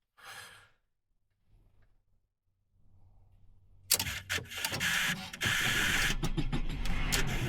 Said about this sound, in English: we might get lucky and it crank up on this first one